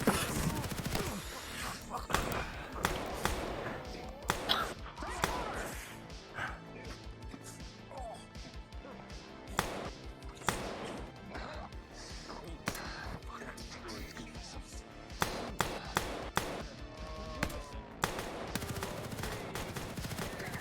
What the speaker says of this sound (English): you're going to see these tigers raise their hands and fire their guns at both these civilians.